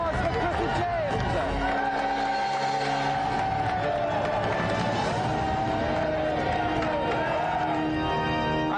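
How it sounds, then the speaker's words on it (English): A television studio audience cheers and whoops over a dense layer of clapping, with loud overlapping voices and a rising tone throughout, lasting several seconds without letup. "So another round of applause for Chris and James."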